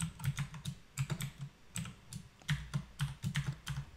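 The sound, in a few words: typing a password on a computer keyboard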